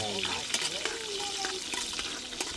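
Goat papaitan cooks in a pan with a steady frying sizzle, punctuated by sharp stirring scrapes and clanks; faint voices murmur in the background.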